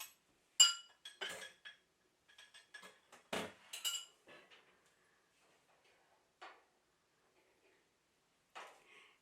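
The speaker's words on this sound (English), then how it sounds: "we're going to add our 2 eggs to this. Makes a lot of noise, doesn't it?" Two eggs going into a big mixing bowl: sharp clinks and taps of shell against the bowl, scattered across several seconds with quiet gaps, close and fairly bright.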